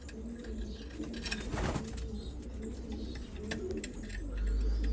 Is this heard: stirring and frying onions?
no